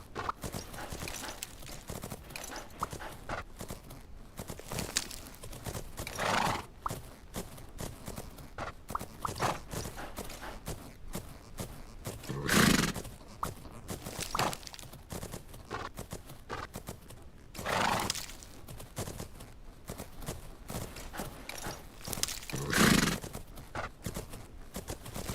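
A horse canters in the video game Fernhoof Grove, its hoofbeats drumming in a quick, rhythmic clip-clop. A few louder bursts, like snorts or heavy breaths, rise over the gait every several seconds.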